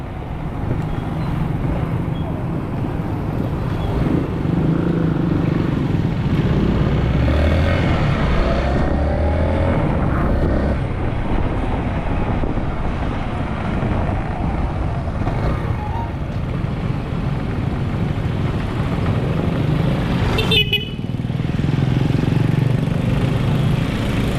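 Morning road traffic rumbles steadily around a moving vehicle, engines idling and pulling away nearby, with a brief sharp horn-like blast about twenty seconds in.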